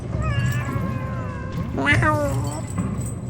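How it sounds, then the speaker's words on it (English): Cats meowing in the video game Animal Well, drawn-out plaintive wails, one rising sharply in the middle, with people talking over them. "Cats will make the most despairing sounding noises"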